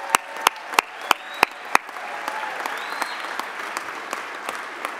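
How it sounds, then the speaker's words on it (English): Applause for the servers and staff at a Boston Park Plaza roast dinner: a few sharp, isolated claps at first, then a steady, moderately loud round of clapping from a banquet audience filling the room. "Let's give the servers and the staff of the Boston Park Plaza a round of applause."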